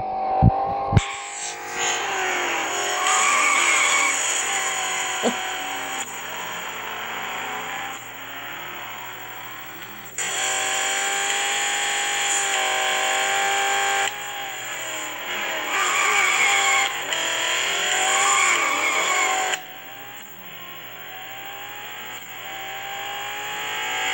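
Lexus IS F engine in a racing video game, a loud revving drone that rises and falls through gear changes and sustained bursts, with tyre-skid hiss during drifting, no voices.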